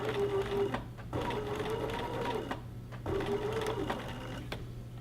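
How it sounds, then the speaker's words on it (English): A sewing machine back stitches a gathered fabric sample between rows of basting, running in steady bursts with brief pauses, close and alone with no talking. "now I'm back stitching in between the second and third row of basting. So now I'm stitching it permanently."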